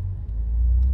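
A Chevrolet Camaro Transformers Edition's engine rumbles low and steady at slow speed, its exhaust note droning deep and close with no voices.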